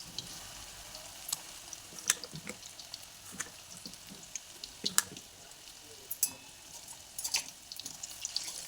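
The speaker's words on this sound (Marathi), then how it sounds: "खालचं अंगवरती करायचं आणि छान तळून घ्यायचं." Urad dal fritters deep frying in oil, a faint steady bubbling hiss broken by scattered soft pops and occasional clinks, heard alone without talk.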